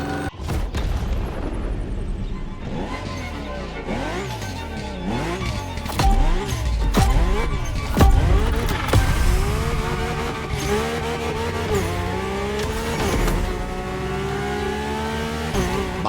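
A powerful Mercedes car driven hard in the racing game The Crew Motorfest, engine revving up and down through repeated gear shifts with rising and falling pitch sweeps and some tire noise, loud and continuous throughout.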